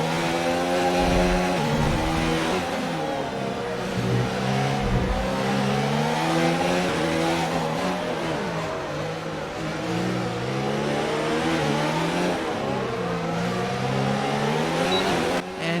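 Race car engines from the F1 2019 video game on the Monaco street circuit at midnight scream continuously, with revs rising and falling through gear changes and corners, loud and alone with no commentary.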